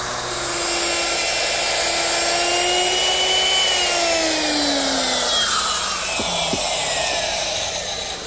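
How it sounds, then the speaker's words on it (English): Power sanding on the wooden face frame of a grandfather clock bonnet in a woodworking shop, a loud continuous whirring drone with shifting pitch lasting several seconds, near and alone. "Needs a little bit of sanding."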